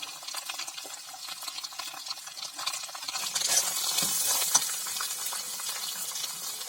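Potatoes, onion and green chili fry in a pan, a soft sizzle under scraping stirs that grows louder and hissier partway through, with no voices.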